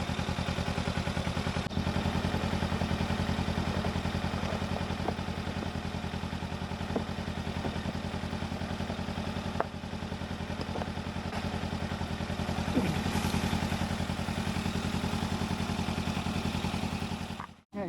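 A Kawasaki Versys motorcycle engine runs in low gear with a steady, even drone and a mechanical clatter throughout, close and constant, cutting off abruptly at the end.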